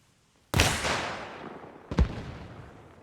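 Two sharp rifle shots ring out in the Arma Reforger video game, fired at distant Humvees, each followed by a long echoing tail, with a gap of about a second and a half between them.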